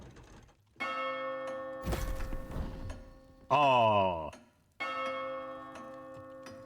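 Bell tolling in the Sea of Thieves video game, strikes ringing out loud in separate bursts with sustained harmonic decay between, broken by a clunky mechanical rattle and a brief voice exclaiming.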